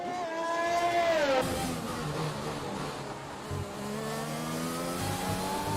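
An F1 car engine races in an Xbox Baku Grand Prix game, the whine climbing and then dropping as the car brakes late into a corner, followed by a steadier drone, with no talk.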